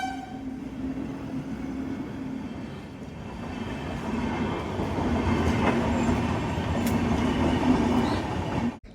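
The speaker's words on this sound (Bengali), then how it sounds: "এখান দিয়ে একটা থ্রু ট্রেন পাস হচ্ছিল, বেশ স্পিডেতেই" A through train rushes past at speed, a loud continuous rumble with rhythmic clatter of wheels, building toward the end before cutting off abruptly.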